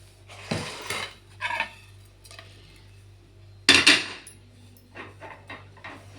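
A kadai is set down and handled on the stove, making several metallic knocks and scrapes with one loud clatter partway through, close and otherwise quiet.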